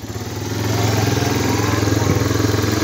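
A Honda Big Red three-wheeler engine runs steadily close by, its throttle rising from a lower idle into a faster, louder pulsing rev that holds through to the end, with no talking.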